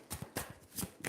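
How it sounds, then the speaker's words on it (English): Tarot cards shuffled by hand in a few quick riffling bursts, close and soft, with brief pauses between. "I'm going to shuffle that again because that's too many cards"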